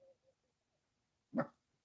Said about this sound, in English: I hear a puppy barking.